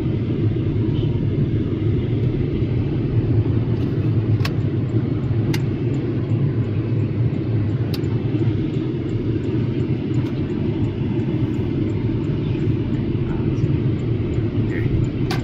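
A 2012 Porsche Cayenne 3.6 with automatic transmission rolls over an uneven, broken road during a suspension test, giving a steady low cabin rumble of road and engine noise. A few faint knocks rise briefly from it, and a person talks over it.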